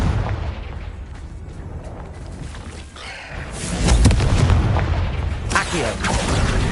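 Booming spell explosions from Confringo casts in a PS5 magic school video game, several heavy blasts and bursts over rumbling noise, with a big swell near the middle and another burst toward the end.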